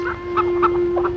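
A chicken clucks in four short, separate bursts spaced about a quarter-second apart, fairly close, over a steady low electrical hum.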